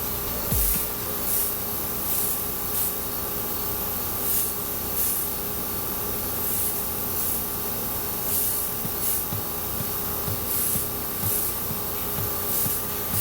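Airbrush spraying makeup onto a face, giving a steady close hiss broken by repeated short bursts of spray throughout, with no talking.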